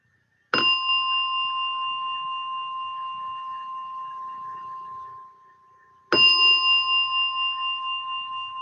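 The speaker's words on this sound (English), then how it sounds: "as you hear the gong slowly coming out from meditation" A meditation gong is struck twice several seconds apart, each stroke a clear bright ring with long sustained humming overtones that slowly fade, alone in near silence.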